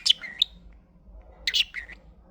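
A pet bird gives two separate bursts of bright, high chirps about a second and a half apart, close and clear in an otherwise quiet room.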